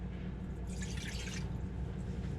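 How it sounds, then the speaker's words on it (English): A cup of water poured from a measuring cup into the bottom of a pressure cooker in a home kitchen, a soft brief splash and trickle, faint and close, with no talking. "So I'm gonna go ahead and put 1 cup of water"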